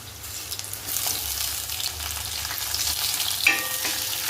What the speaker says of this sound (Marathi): आता आपण याच्यामध्ये घालू उभं कट केलेला टमॅटो